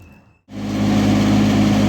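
A GAB-2 4 kW generator running under a household load: after a brief quiet moment its engine hum kicks in loud and close, a steady droning tone with broad mechanical roar.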